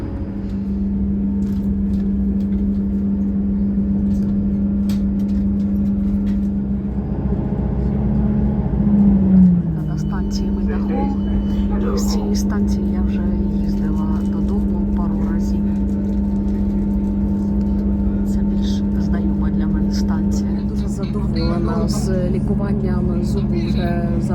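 Steady low rumble and hum inside a moving train, constant throughout with a brief shift in pitch midway, while someone talks over it.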